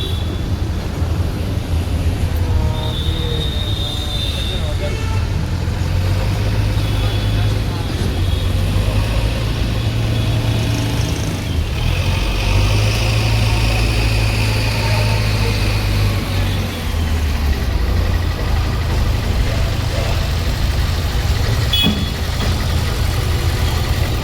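A diesel tractor engine idles in a steady, low, continuous drone that carries on unbroken for the whole stretch, loud and close, with a faint higher whine now and then.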